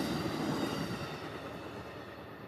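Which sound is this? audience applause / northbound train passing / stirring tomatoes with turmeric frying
northbound train passing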